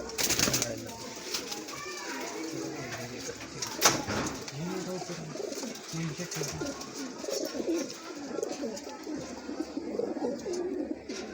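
A teddy pigeon coos among other pigeons at a breeder's loft in Islamabad, with low repeated cooing and some chirps over steady background noise, and a brief louder knock midway.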